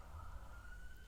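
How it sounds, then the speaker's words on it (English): A distant emergency siren from traffic on a nearby busy road holds a steady wailing tone, faint and far off beneath a low rumbling background hum. "I'm sorry if you can hear that siren."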